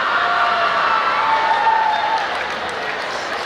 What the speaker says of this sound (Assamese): আমি ছাত্ৰ-ছাত্ৰীসকলৰ পৰা হাত চাপৰি আশা কৰিছোঁ।